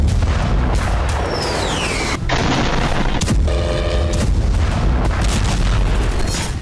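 Russian ballistic missile strikes on Ukraine: a dense, continuous roar of heavy booms and rumbling blasts, loud and sustained, with sharper cracks and a descending whine over the din.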